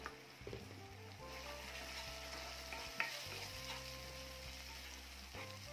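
Kolhapuri masala, an onion-garlic chutney with a pinch of garam masala, sautéing in oil for a potato curry, a soft, low sizzle with occasional light stirring clicks, alone and without talk.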